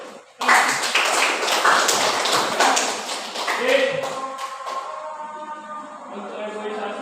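A classroom bursts into dense applause, many hands clapping loudly and close, fading out after a few seconds into lighter scattered claps and background voices.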